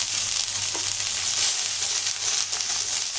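Chopped large onion sautés in a pan with a steady, close hiss of frying, a faint low hum, and a single soft knock partway through.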